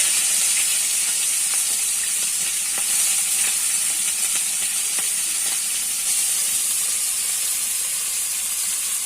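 Prawns fry in a pan seasoned with salt and turmeric, giving a steady, close, bright sizzle with soft popping crackles throughout and no talk.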